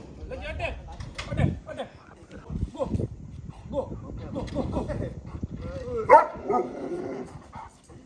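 A dog barks and growls in short bursts, with a louder yelp near the end, while a person talks over it.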